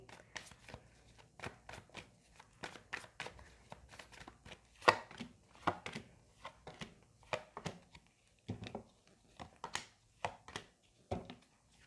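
Tarot cards being shuffled and handled, a run of crisp riffling snaps and soft slaps in an uneven rhythm, close and fairly quiet, with no talking.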